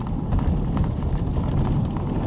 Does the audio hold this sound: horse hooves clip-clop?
yes